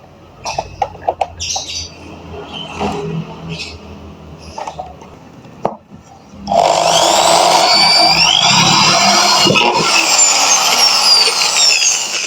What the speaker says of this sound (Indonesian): Sekarang waktunya ngebor.